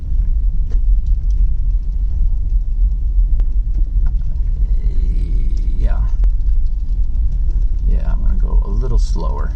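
Car on a rough, rocky mountain road, tyres not all-terrain and slipping, with a steady loud engine rumble and bumpy throbbing throughout and voices talking over it near the end.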